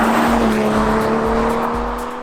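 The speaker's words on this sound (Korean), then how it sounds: "엔진의 이 회전질감은 진짜 부드럽습니다" A BMW's 3.0-litre inline six-cylinder engine hums steadily at a smooth, even pitch, heard from close by inside the car, with a faint rhythmic thump of the road beneath.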